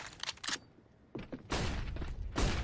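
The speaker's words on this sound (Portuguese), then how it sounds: "Na trocação de tiros" Bursts of Counter-Strike: Global Offensive gunfire during a professional match, rapid clusters of shots with sharp, loud cracks and brief pauses between exchanges.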